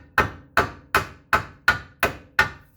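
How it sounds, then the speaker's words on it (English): A hammer strikes the lower ball joint of a 2011 Kia Soul 1.6 seven times in a steady, even rhythm, each sharp metallic blow ringing briefly, close and alone. "This one needs a hammer like this."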